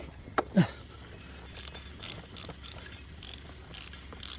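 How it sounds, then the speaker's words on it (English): A 15/16 socket on an extended ratchet works loose the oil drain plug of a 2022 Jeep Grand Cherokee Limited V6, with a couple of sharp clicks and then light ratcheting ticks over quiet background hum. "now we have the 15/16 socket on the extended ratchet, and we're gonna crack this guy loose"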